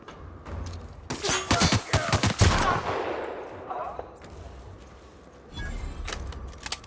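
Gunfire in The Outer Worlds breaks out in a rapid cluster of sharp shots, then fades into quieter action and returns in a short later burst.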